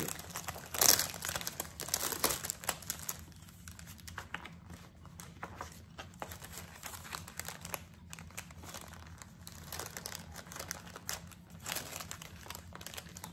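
Paper crinkles and rustles on and off for a long stretch, close and fairly soft, with sharper crackling bursts early on and no voices.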